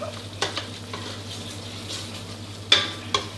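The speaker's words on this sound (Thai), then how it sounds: "เสร็จแล้วก็เอาน้ำมันที่เราได้จากการผัดหัวกะทินะครับ มาผัดกับพริกแกงอีกครั้งหนึ่งครับ" Curry paste is stir-fried in oil rendered from coconut cream, giving a soft steady sizzle under a low hum, with a few sharp scraping clicks of the spatula against the pan.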